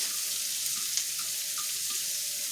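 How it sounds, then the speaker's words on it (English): Steady broadband hiss of shrimp frying in a pan on fairly high heat, with occasional small pops and crackles, continuous and fairly close. "It's sizzling a little much to suit me"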